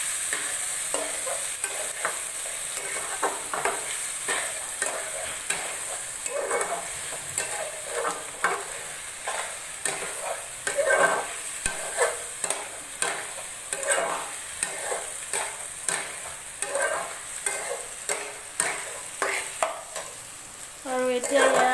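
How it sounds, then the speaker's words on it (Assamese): Chicken frying in a pan while being stirred, a continuous bright sizzle with steady rhythmic scraping strokes repeating about every second, close and fairly loud, with no voices. "এইখিনি এতিয়া ভালদৰে ভাজিব লাগিব।"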